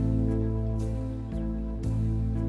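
An electronic organ plays a Soft and Easy rhythm pattern without the alter style, sustained chords held steadily under a light, regular percussion pulse, clear and close.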